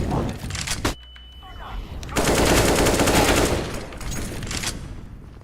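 Rapid automatic gunfire in Counter-Strike: Global Offensive, loud bursts of rattling shots dominating most of the clip, with a brief quieter gap early on and game voices underneath.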